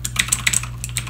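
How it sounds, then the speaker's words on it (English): Rapid clacky keystrokes on an Eagletec KG040 mechanical gaming keyboard, a quick irregular burst of close, crisp clicks with no talking. "This is what a mechanical keyboard sounds like."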